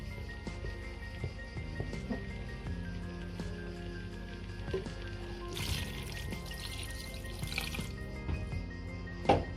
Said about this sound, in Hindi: तो अब मैं इसमें जो है वो पानी डालती हूँ।